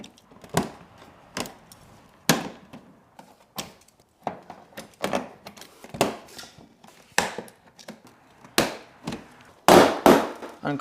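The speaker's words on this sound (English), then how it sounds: "Unclipping from under the headlight." Plastic pop clips under the headlight of a 2022 Subaru WRX give a series of sharp, irregular snaps and clicks, close and fairly loud, with quiet gaps between them.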